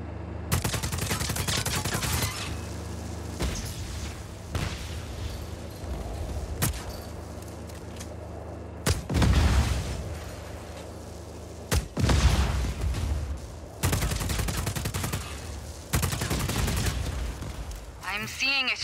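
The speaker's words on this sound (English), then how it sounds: "That's a standard-issue Black Hand service rifle." Rapid bursts of rifle fire from a service rifle with an underbarrel grenade launcher in the video game Just Cause 4 crackle over a steady background, with a few heavier booming blasts mixed in, loud and close.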